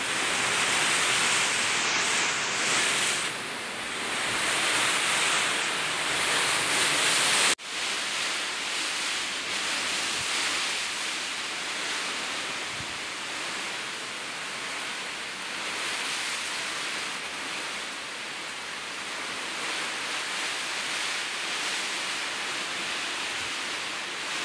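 Strong wind and heavy rain lash a house during a storm, a loud continuous hissing roar that runs without break, dropping slightly after a sharp shift partway through.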